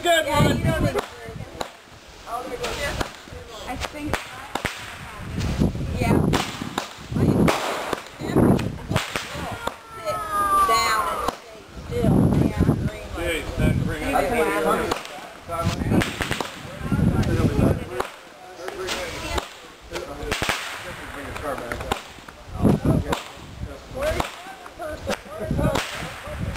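Fireworks at an outdoor 4th of July display, a long barrage of loud cracking bursts and sharp pops coming in rapid uneven clusters, with people chatting and calling out over the explosions.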